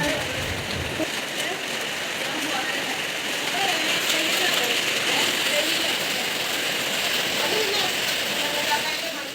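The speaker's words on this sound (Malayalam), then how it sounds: "പുറത്ത് നല്ല മഴ പെയ്തുകൊണ്ടിരിക്കുകയാണ് കേട്ടോ." A steady downpour of heavy rain outside, a continuous wash of drumming drops that holds at an even level throughout.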